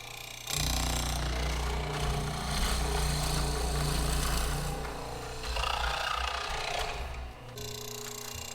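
A tilt hollow chisel mortiser bores into a wooden stair handrail for iron balusters, giving a loud, continuous motor roar with grinding cutting noise that holds steady for several seconds, close and alone.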